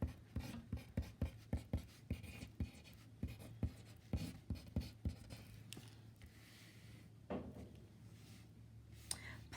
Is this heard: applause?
no